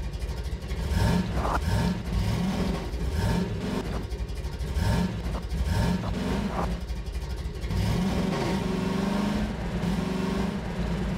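A car engine in a Half-Life 2: Episode Two mod revs up and down repeatedly, its mid-pitched drone rising in steady climbs and falling back, loud and close throughout with no talk.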